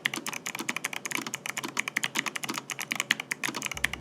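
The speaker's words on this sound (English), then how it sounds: "This is the first time I've heard a keyboard with clicky switches that actually sounds good." Rapid, crisp clicks of a clicky-switch mechanical keyboard being typed on steadily, close up and bright, with no voices.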